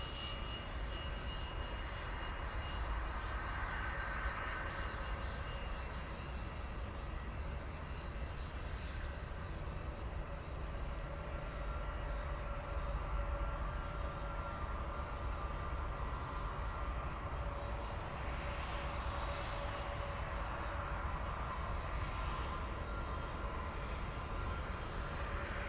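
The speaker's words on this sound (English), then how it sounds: "All right, let's go for the intersection takeoff. We have Lufthansa 1912." A Lufthansa airliner at Munich airport powering up for an intersection takeoff, its jet engines giving a steady, broad distant roar that holds constant throughout.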